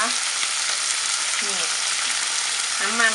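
Sweet peppers stir-fry with pork, garlic and pepper in a hot pan, a loud steady sizzle running throughout with a couple of brief clinks and voice-like bursts near the end.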